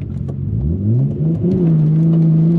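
A 500 bhp Nissan Skyline Tommy Kaira edition accelerates hard, its engine revving up through rising pitch, dropping briefly at a shift, then climbing again and holding a loud, close, throaty drone.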